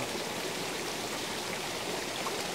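A mountain stream flows in a constant, dense rush of water, close and steady throughout with no other sounds standing out.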